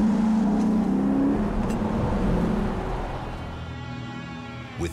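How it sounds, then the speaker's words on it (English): A car, driven by a trained driver, reverses at over 40 mph then swings around to face forward; engine roar and tyre noise stay loud and steady before fading slightly at the end. "the driver shifts into reverse and accelerates above 40 miles per hour"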